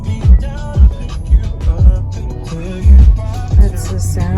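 Music with a thumping bass beat plays loudly through the stereo of a 2020 Hyundai Elantra, heard inside the cabin with steady rhythmic low-end hits.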